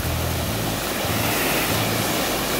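Rushing water of Bukal Falls, a waterfall in Majayjay, Laguna, roars as a steady, loud, unbroken broadband wash close by, with no voices over it.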